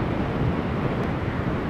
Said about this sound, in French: On est dans une journée vraiment frappée par le vent.